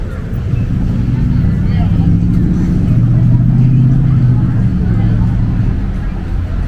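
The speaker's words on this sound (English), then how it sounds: "Nice traffic jam on the strip." Slow-moving traffic jam on a downtown street in Wisconsin Dells, with a loud, continuous rumble of idling and creeping car engines under nearby crowd chatter and voices.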